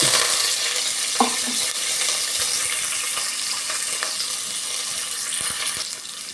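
Hot oil sizzles and crackles steadily as seasoning seeds, garlic cloves, onion and curry leaves fry, with a brief clink of utensils near the start; close and continuous, no talking.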